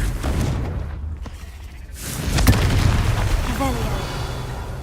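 A Confringo fire spell blasting in the video game Hogwarts Legacy, a deep booming burst that swells and rumbles for a couple of seconds over a continuous game soundscape.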